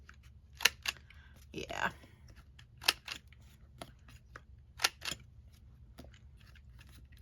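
A corner rounder punch clips the corners of a paper card, giving several sharp crisp snaps spaced a second or two apart, close and quiet, with a brief soft rustle and a murmured word.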